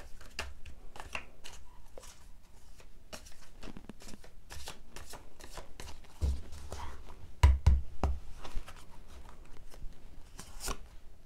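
Tarot cards are shuffled and drawn during a reading. Soft, rapid riffling and flicking patter runs continuously at close range, with a few sharper slaps near the end.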